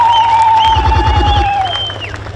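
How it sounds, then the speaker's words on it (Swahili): Crowd applause with clapping and some cheering at a political rally in Iringa, steady and loud through the clip and fading slightly at the end, with a high sustained tone running above it. "Piga makofi kwa Dr. Samia Suluhu Hassan."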